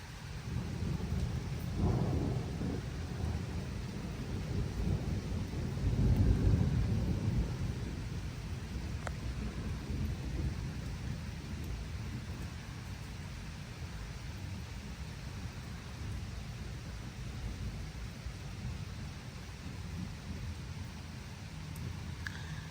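Thunderstorm in rural Turkey with frequent lightning: steady rain hiss with low, rolling thunder rumbling at a distance, strongest early on before easing into constant rain, with no talk.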